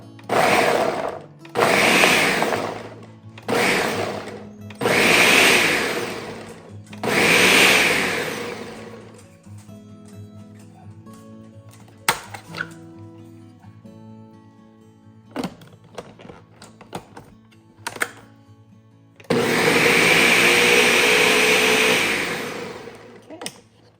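A kitchen blender processing garlic with olive oil pulses in four short loud bursts, then sits quiet with small clicks and clatter before one longer sustained run near the end.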